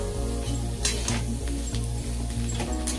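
Boiled chow mein noodles fry with salt in a pan, a constant sizzle broken by rhythmic scraping and clinking strokes of a spatula against the metal, close and fairly loud.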